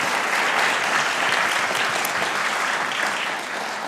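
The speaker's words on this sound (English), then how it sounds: "a round of applause for Daan van Eijk" An audience at a public lecture on neutrinos applauds the lecturer, a steady, dense wash of clapping from many hands that holds for several seconds and eases slightly at the end.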